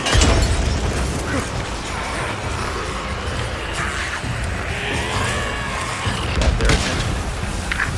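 A Molotov cocktail bursts into fire in the post-apocalyptic video game Days Gone, a loud, dense roar of flames and crackling that swells at the start and again near the end with sharper bursts.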